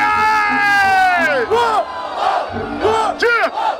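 Crowd at a Brazilian freestyle rap battle final cheering and chanting together, loud and close, with rhythmic repeated shouts and whoops rising in bursts.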